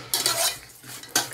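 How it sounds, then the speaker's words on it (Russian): A spoon stirs salted fish with a crushed bay leaf and peppercorns before it goes back into a jar, giving close scraping, clinking strokes in two bursts with a short pause between them. "Все перемешиваем и потом обратно в банку."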